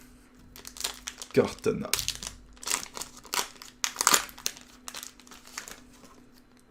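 A Pokémon booster pack wrapper from the Scarlet & Violet Crimson Invasion set is torn open and crinkled in several loud, crackly bursts close up, while a person talks over the rustling.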